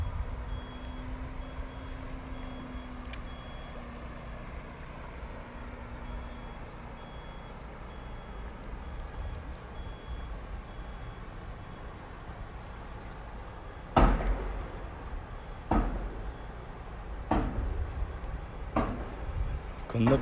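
Distant dump truck at a construction site across a river, its tailgate banging after dumping soil: four or five sharp, echoing thuds spaced a second or two apart over quiet outdoor ambience, with a faint steady beeping earlier.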